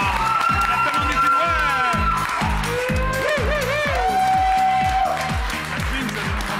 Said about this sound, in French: On l'applaudit très fort, Yasmine.